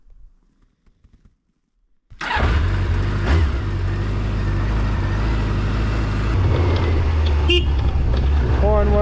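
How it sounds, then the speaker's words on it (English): A Kawasaki GPX 600R motorcycle horn blares after a quiet moment: one loud, continuous, close-up honk held for several seconds. "Horn works."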